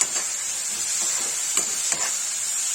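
Bitter gourd and onion sabzi frying with spices in a pan, giving a steady close sizzle with a few short scraping stirs breaking through, no talking.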